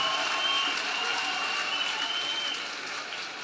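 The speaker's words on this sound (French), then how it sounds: "Acclamation à Jésus-Christ." A church congregation applauds at a worship service, a dense, fairly distant patter of clapping that carries on steadily and slowly fades toward the end.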